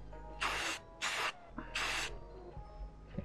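A spray paint can hisses onto a rifle in three short, close bursts, each roughly a third of a second, with a fainter puff after them amid quiet room noise.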